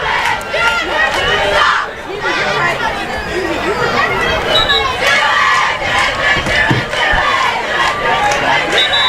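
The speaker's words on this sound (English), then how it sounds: "the cheerleaders and the band together, cheering on the Red Knights" Crowd and cheerleaders at a high school football game, the Toronto Red Knights versus Conotton Valley, yelling and cheering in a loud, continuous roar of voices and chatter from a packed stand.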